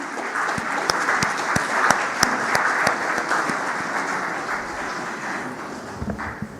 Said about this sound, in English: Let us welcome him with a resounding of claps